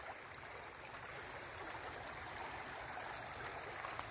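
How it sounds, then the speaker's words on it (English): Water flowing steadily in a stream amid debris and metal fencing after a storm, a continuous broadband rush and trickle at moderate distance with no voices. "But there's still water flowing, as you can see"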